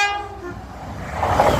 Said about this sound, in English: Great Western Railway service from Cardiff Central to Portsmouth Harbour.